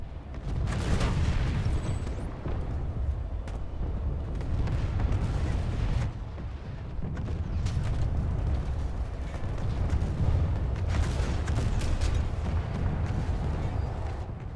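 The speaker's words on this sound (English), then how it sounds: "your high explosive rounds will wrap the explosion around to catch them" High-explosive rounds from a Prowler tank in a video game boom again and again. The rumbling blasts come in clusters with little pause between them.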